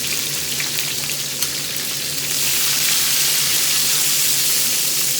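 Peppers frying in hot oil in a small home kitchen, a loud, steady, close sizzle that swells fuller partway through and carries on alone without talk.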